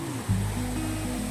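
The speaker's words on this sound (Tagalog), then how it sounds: "Nice river crossing." River water rushing at a hiking trail river crossing on a mountain traverse, a steady close roar of flowing water with a low hum running underneath, heard alone.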